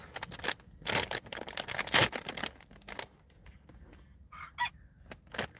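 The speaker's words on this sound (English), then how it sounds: "That damn rooster." A rooster crows, heard from inside a car amid scattered rustling and clattering noises, with a short, fairly faint call near the end.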